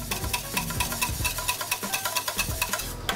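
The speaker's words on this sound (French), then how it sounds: "On remue le tout" Spoon stirring a lamb mixture with lime juice in a bowl or pan, close and rhythmic, with quick repeated scraping strokes and a light wet sizzle underneath.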